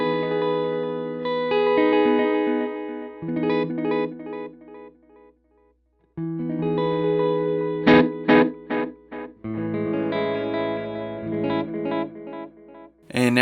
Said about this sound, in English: next one is tape echo